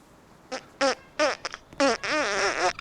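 Cartoonish fart sound effects in the Roblox video game, five or six short bursts in a rapid uneven series, fairly clear and alone.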